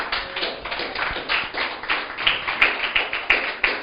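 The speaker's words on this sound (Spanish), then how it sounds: "Aplauda al Dios vivo." A church congregation claps in a steady, rhythmic beat of sharp overlapping slaps that grows slightly louder and more even toward the end, with no speech over it.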